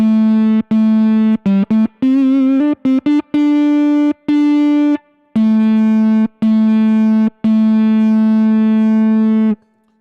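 A germanium distortion pedal clips a sustained tone through a Grammatico GSG100 guitar amp, loud, buzzy and harmonic-rich, cut into repeated bursts with brief silent gaps and small pitch shifts, no talking.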